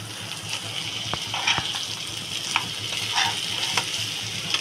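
Bitter gourd (kushi) frying with egg in a pan, a continuous close sizzle with scattered sharp pops and light scraping stir clicks, no talking.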